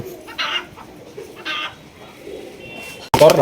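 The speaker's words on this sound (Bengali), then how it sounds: "দেখেন কত সুন্দর কবুতর ডাকতেছে" Big Gopalganj pigeons coo on a farm in several soft, repeated murmurs that are close by and moderately loud, and a sudden louder noise comes at the end.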